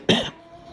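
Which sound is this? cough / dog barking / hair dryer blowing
cough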